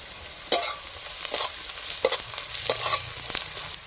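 Panch phoron spices crackle and sizzle in hot oil in a pan, with several sharp pops over a steady frying hiss and a few stirring scrapes, close and alone.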